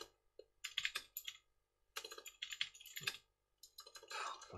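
Close, rapid clicking of keys on a computer keyboard in several quick bursts separated by short pauses, with a busier flurry of typing at the end.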